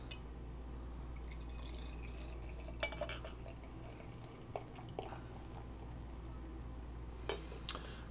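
New Belgium Eric's Ale, a hazy beer, poured into a New Belgium glass, heard as faint liquid trickling and glassy clinks with a few sharp taps over quiet room hum.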